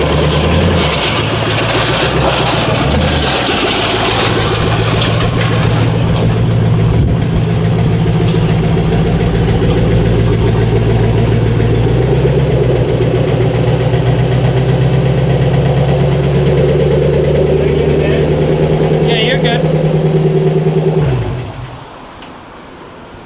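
A Lexus LS400 with its front bumper removed idles and creeps into a garage, its engine a steady close low hum for about twenty seconds before cutting off abruptly, leaving quiet room tone.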